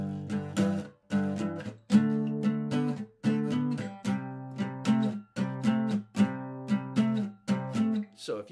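A chord progression played as a jam track, with rhythmic strummed chords repeating in steady bursts about every second, full and harmonically rich, alone with no voices.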